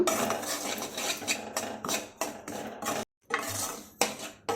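Food stir-fries in a pan over a home stove, busy metallic scraping and clanking of a spatula in rhythmic bursts over a crisp sizzle, with one brief silent break.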